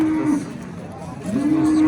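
A cow at Andijan's Yakkatut livestock market moos loudly and close, two drawn-out low calls separated by a short pause, with faint ambient noise underneath.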